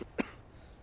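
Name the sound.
character coughing in Halo Reach machinima video game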